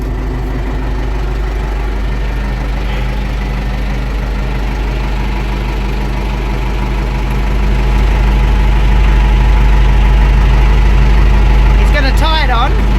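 Tractor engine idling at close range, a loud, steady low drone that holds throughout and swells slightly in the second half.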